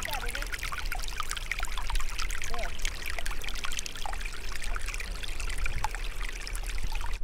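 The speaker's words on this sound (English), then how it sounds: "We're constantly surrounded by the sound of running water." Steady rushing water in a forest at Henry Cowell, Santa Cruz, after heavy rainstorms fills the scene, a continuous broadband wash with scattered faint chirps of birds on top.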